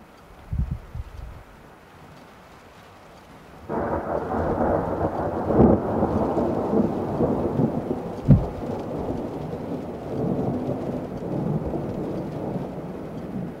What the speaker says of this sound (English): There we got thunder snow because it is partly snow coming down.